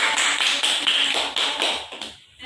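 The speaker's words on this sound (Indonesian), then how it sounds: "Beri aplaus untuk Kansa." A classroom of students gives a burst of quick, rhythmic clapping, close and lively, fading out after a couple of seconds.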